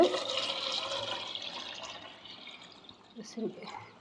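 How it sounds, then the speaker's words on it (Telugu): Water gushes and splashes into a plastic container up close, then tapers into a few softer trickles and drips. "నేనైతే డబ్బాలో అయితే వాటర్ వేసుకుంటున్నాను ఫస్ట్"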